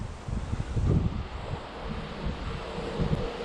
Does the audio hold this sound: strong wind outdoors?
yes